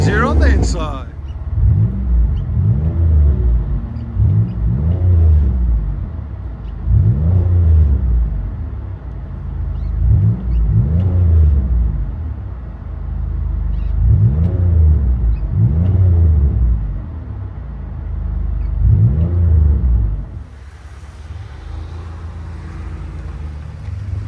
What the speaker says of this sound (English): Chevy Impala FLOWMASTER 44 resonator delete.